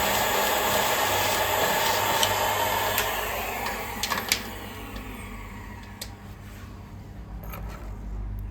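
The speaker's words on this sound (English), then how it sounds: "just hoovering all the loose ballast up" A vacuum cleaner hoovers loose ballast off a small OO-gauge 1:76 model railway layout, a steady close whine with scattered clicks and rattles as grit is sucked up, running continuously without talk.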